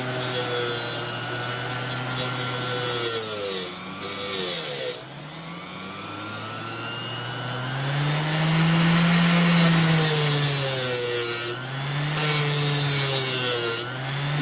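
A metal washer is reshaped with a power tool, a loud grinding whine that rises and falls in pitch as the tool bites and eases, with harsh bursts of high scraping and short pauses between passes.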